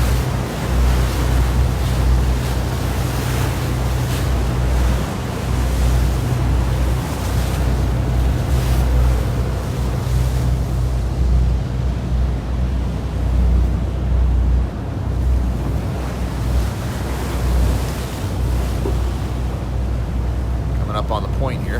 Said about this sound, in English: Working our way into the ocean, leaving the bay behind us here.